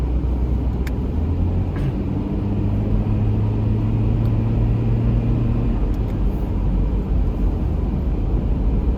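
A vehicle from the city driving along a road in Japan, a loud, steady engine rumble with droning tones that holds close for several seconds, no talk.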